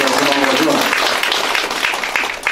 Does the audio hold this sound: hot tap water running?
no